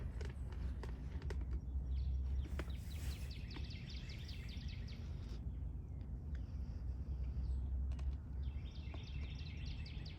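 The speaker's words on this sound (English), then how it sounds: "It's so nice hearing the birds." Birds chirp in short repeated trills at a distance over low rumbling background noise and scattered footstep-like knocks.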